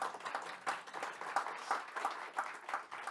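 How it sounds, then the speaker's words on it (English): A small audience on an Antarctic voyage claps for a guest during an interview. The applause is soft and distant, a steady pattering of many hands that continues evenly throughout. "You can clap for him."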